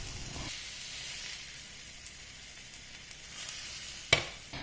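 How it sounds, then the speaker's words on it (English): Tomato slices grill in spiced oil on a grill pan, giving a steady, close sizzle and hiss with a sharp click near the end. "On a grilling pan, I'm using the spice oil and layer the tomato slices, flipping them over to get grilled on both the sides."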